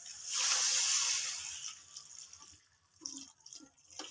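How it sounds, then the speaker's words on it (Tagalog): Hot water poured from a thermos into a cooking pot of squash and string beans, a close, steady gush that fades into softer trickles and splashes as the pour tapers off. "lagyan na natin ng tubig"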